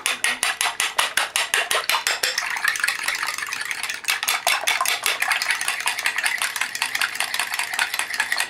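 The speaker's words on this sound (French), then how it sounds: "Je vais battre mon œuf." A fork beats an egg in a bowl while brioche dough is being prepared, giving a fast, steady run of light clinking strokes that continues without pause from start to finish.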